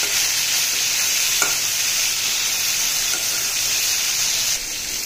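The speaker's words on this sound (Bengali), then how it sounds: "মাছ ভাজতে হয় হালকা।" Pangas fish frying lightly in a pan gives a loud, steady sizzle and hiss throughout, with a couple of faint clinks and a slight drop in intensity near the end.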